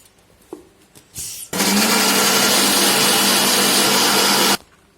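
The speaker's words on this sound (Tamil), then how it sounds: "இப்போ இதை வந்து நல்லா அடிச்சு எடுத்துக்கலாம் மிக்சியில் போட்டு" A mixer grinder whirs loudly as it blends chocolate cake batter with cocoa powder, starting with a couple of short taps and bursting into a steady, roaring three-second run before stopping abruptly.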